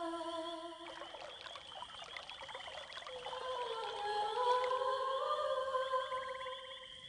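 Watering a Dryad in the game Quest for Glory V: Dragon Fire: a steady trickle of pouring water flows alone, rising slightly in loudness partway through, over soft sustained tonal game music.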